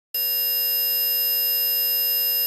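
A simulated tinnitus tone, a steady synthetic hum with a low drone and layered high sustained pitches, starts abruptly and holds unchanging and loud throughout, with no voices.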